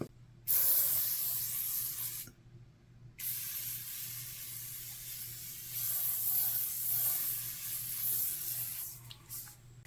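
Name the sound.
facial mist spray bottle spraying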